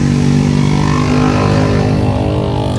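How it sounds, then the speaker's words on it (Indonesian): Loud, droning engine noise from motorbikes with racing exhausts on a road toward Cidaun, a steady rumbling roar that stays close and continuous. "Banyak ya motor knalpot racing,"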